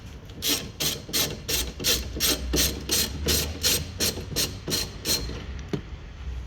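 A hand ratchet clicks in steady, rapid strokes, about a dozen even pulls, while loosening the 13mm wiper arm nut on an Audi A3 8P, close and crisp with no talking.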